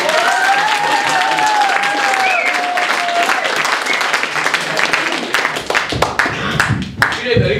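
An audience at an improv theatre match bursts into loud, dense applause mixed with crowd noise. Voices call out over it, and a whistling tone is heard near the start.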